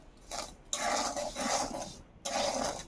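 Salt is stirred in a bowl in a run of gritty scraping strokes, each burst separated by short pauses, close and fairly loud with no speech.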